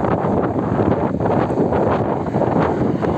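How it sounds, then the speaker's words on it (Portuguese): Strong wind buffets the microphone of a FIMI X8 Mini drone in flight, a loud, continuous rumbling roar with gusty swells throughout. "Aí, ó, é tanto vento, ó,"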